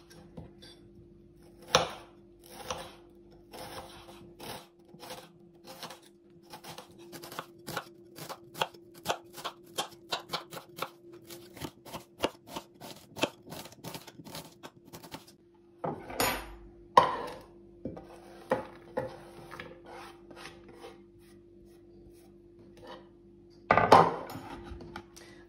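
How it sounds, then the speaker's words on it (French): An onion is sliced into thin strips with a knife on a cutting board, giving a run of quick, even chopping taps that speed up, then sparser cuts and a few louder knocks near the end, over a steady low hum. "je vais venir découper un oignon en fines lamelles"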